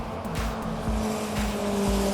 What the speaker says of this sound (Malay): Aku minta maaf kalau korang dengar bunyi kereta kan, sebab aku sekarang dekat betul-betul tepi Highway Plus